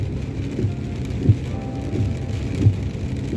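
Heavy rain pouring during a multi-day downpour in Jerusalem, a steady wash of drops drumming on a slow-moving car, with occasional louder thumps.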